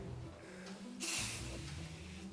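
A single short hiss of a spray bottle spritzing, brief and fairly soft against a steady low background hum.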